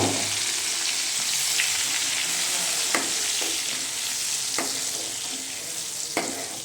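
Steady sizzling of blended tomato and green chilli paste frying in hot oil for egg curry, with occasional sharper pops and scrapes of stirring, close up and without talk.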